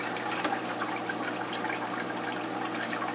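Water pours steadily into an aquarium during a water change, a continuous close rushing wash with no breaks, heard alone.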